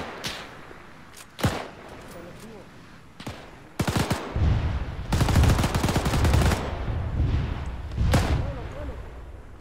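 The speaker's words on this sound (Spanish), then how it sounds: "¡Ataque de Katiusa, Santaña!" Katyusha rocket artillery barrage in Arma 3 during a World War II Eastern Front battle at Krasny Bor: sharp scattered blasts build into sustained, loud rumbling volleys and dense cracking fire, with shouted voices mixed in.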